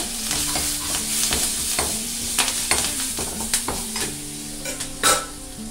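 Urad dal and spices tempering in hot oil with curry leaves, green chillies and dried red chillies, a loud steady sizzle broken by sharp crackles and pops as a spoon stirs the pan, close up and without talk.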